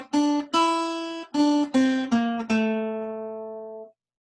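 A guitar picks the bars of a theme, six clear plucked notes in a bouncy rhythm, the last one ringing out and fading, close and alone.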